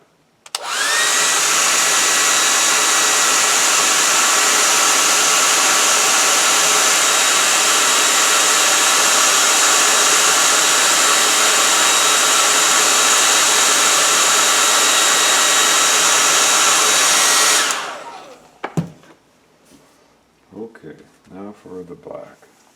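A hair dryer blasts steadily for about seventeen seconds to dry paint on a teddy bear's head, a loud close whirring hum that shuts off abruptly, followed by soft handling noises and a voice.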